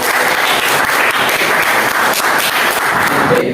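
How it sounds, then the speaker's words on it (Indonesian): A classroom of students claps together, a dense, steady burst of applause lasting a few seconds before cutting off abruptly. "Tepuk tangan dulu."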